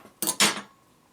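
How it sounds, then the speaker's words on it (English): Two quick, close scissor snips cutting through quilting fabric for a ripple mini quilt block, each a short crisp burst with a brief pause between, and no talking. "And I'm going to snip this."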